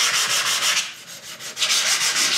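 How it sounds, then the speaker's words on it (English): Sharpened knife being deburred on a stone, giving loud, close, rhythmic rubbing strokes that swell and fade in quick succession, with no speech. "my third and final step, which is to deburr my knife"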